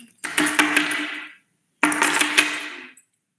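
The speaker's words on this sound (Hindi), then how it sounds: "तभी सहसा मां की कोठरी का दरवाजा जोर से खटकने लगा।" Two loud bursts of banging and rattling on a wooden door, each about a second long and made of rapid clattering hits, separated by a short silence. The sounds are close and dry, with no talking.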